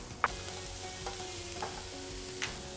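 Boiled chicken pieces and capsicum stir-fry in a hot pan with a steady close sizzle, broken by a few scraping stirs and one sharp clink of utensil on metal.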